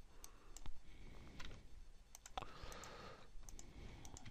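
Soft, quiet clicks from a computer mouse and keyboard at a desk, scattered irregularly over a few seconds while someone works on a billing spreadsheet in Excel, with no talking.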